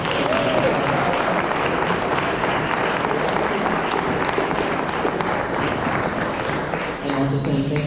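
Sustained audience applause after a student theological debate, a thick wash of clapping lasting about seven seconds before fading as a voice starts speaking.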